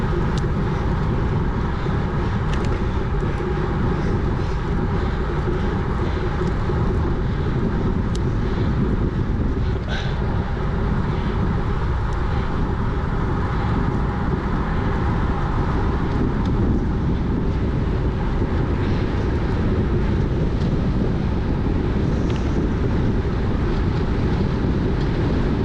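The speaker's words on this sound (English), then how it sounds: "the wind definitely plays a factor on this back end" Wind buffeting a microphone on the back stretch of a Hincapie Spring Race Series Cat 4/5 bicycle race: constant heavy low roar and rumble, unbroken for the whole stretch, no talk.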